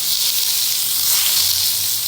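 A gas camping stove burner hisses steadily and close by in the open air, a continuous broadband rush with a faint low rumble beneath and no voices.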